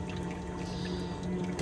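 Dirty, stagnant flush fluid being emptied out of an IH Oregon R, a soft, continuous pouring trickle of water, faint and close, with no talk.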